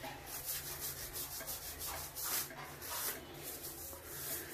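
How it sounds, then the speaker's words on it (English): A mini brush scrubs shower lines coated with citric acid, giving a close, continuous bristly rubbing in quick back-and-forth bursts over a low background hum. "So I'm gonna continue scrubbing the lines."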